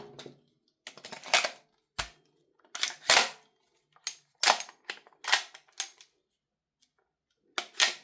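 Sharp plastic clicks and clacks from a KWA gas magazine being pushed and seated into a VORSK VMP1 airsoft gun, a series of separate close knocks spread across the stretch with quiet gaps between them.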